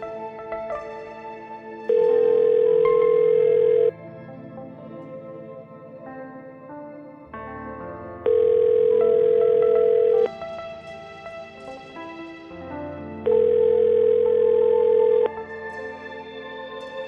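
An unanswered phone call rings out: three long, steady ringback beeps, each lasting about two seconds, come at regular intervals over background music, with no one picking up or speaking.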